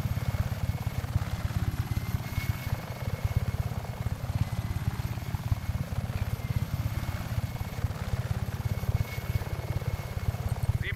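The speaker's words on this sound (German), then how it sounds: "Wir schicken einen Helikopter ins Zielgebiet." A helicopter in Just Cause 3 flies with a steady, continuous rotor thrum and engine drone at a constant distance, with nothing else heard over it for the whole stretch.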